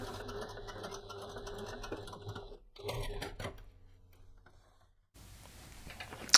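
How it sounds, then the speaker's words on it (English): A sewing machine runs in steady bursts while stitching the open edges of a backpack, stopping and restarting with brief pauses, close and moderately quiet. "I'm going to take that over to the sewing machine."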